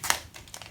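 Masking tape crinkles and crunches as a strip is handled and cut, with one sharp crackling burst near the start followed by softer rustles, close and fairly quiet.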